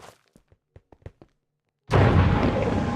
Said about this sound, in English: So it's a void vortex. And there's an explosion at the end of it.